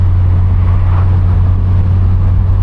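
A steady low engine and upgraded exhaust rumble, deep and constant, droning evenly at cruising speed with no voices.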